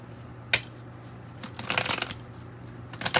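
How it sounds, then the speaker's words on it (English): A tarot-style card deck, Lenormand or Kipper cards, being shuffled by hand: a quick flick, then a soft, longer riffle and a final short shuffle, quiet and close. "give it a little shuffle."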